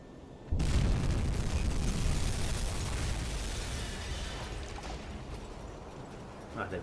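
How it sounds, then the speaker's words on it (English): A torpedo strikes a ship in a World War II U-boat video game: a sudden loud explosion bursts in and then rolls on as a long, heavy rumble that slowly fades, with a faint thump near the end. "There we go, another good strike with the torpedo."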